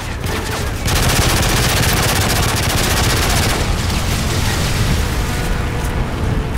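P90 submachine gun fire in Call of Duty: Modern Warfare 3, loud sustained automatic bursts rattling almost without pause, mixed with booming explosions and heavy battle noise.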